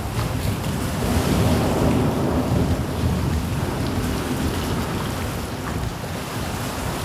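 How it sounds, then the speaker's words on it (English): Strong wind at the coast buffets the microphone as a dense, rumbling roar, steady and loud throughout with slight surges and no talking. "The wind's coming in so good."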